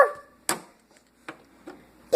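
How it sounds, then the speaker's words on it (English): A dog gives a few short, sharp barks and yips, close by, separated by brief quiet gaps. "Doggy!"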